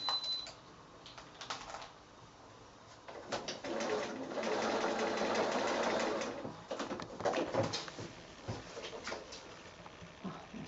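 A sewing machine stitching child's bedding, its quiet needle chatter running in short bursts and longer steady runs at close range with brief pauses between.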